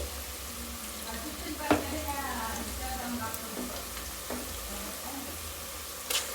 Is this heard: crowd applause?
no